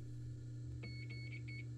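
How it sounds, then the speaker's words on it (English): Electric edge finder on a milling machine beeping as it touches the workpiece, a few short high-pitched electronic beeps over a steady low machine hum. "when you touch it, it makes a circuit and beepity beep it goes"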